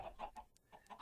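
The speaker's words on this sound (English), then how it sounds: "That was a chicken getting cooked." Clucking chicken sounds from the video game Minecraft as a chicken is cooked, three or four short clucks in an uneven rhythm, moderately close and clear, with no talking.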